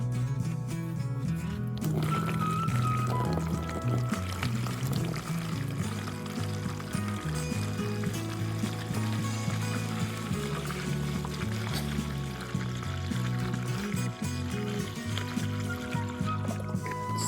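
Water being poured into a Philips alarm clock, a continuous low trickling and gurgling that runs steadily throughout without any speech.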